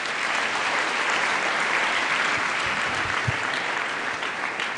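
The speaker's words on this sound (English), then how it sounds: "Let us clap for our teachers." At a school thanksgiving Mass at St. Joseph's S.S.S. Naggalama, the congregation claps for the teachers, a full, continuous roar of hands with a few sharper nearby claps.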